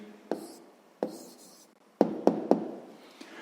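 A pen or pencil writes an answer by hand on paper, giving a series of sharp taps and scratchy strokes, five distinct close ones spaced unevenly with a fainter one at the end.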